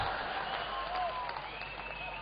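Steady, dense applause from an audience at a Hindi comedy poetry show in Indore, a continuous wash of many hands clapping at moderate distance with no clear breaks.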